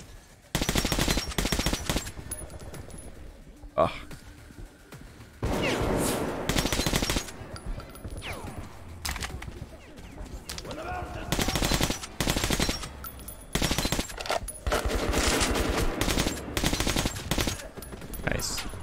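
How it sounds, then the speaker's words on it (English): Suppressed gunfire in the video game Metro 2033, loud bursts of rapid shots separated by brief pauses, repeated through the whole stretch with game ambience between volleys. "overall, like the suppressor and everything sounds pretty good."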